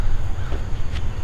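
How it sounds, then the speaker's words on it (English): Crows caw in a cemetery, a couple of short harsh calls over steady wind-like background noise, moderately distant. "look at those birds."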